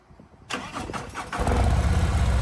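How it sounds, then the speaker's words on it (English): A car with a stock factory exhaust cranks briefly and then fires up, settling into a loud, steady, deep idle close by. "That's stock factory exhaust."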